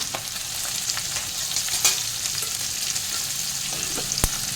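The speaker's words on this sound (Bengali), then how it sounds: "আলুটা একটু ভাজা ভাজা করে নেব।" Potatoes fry with turmeric and spices in a pan, giving a steady close sizzle with scraping stirs and a couple of sharp clinks of the utensil.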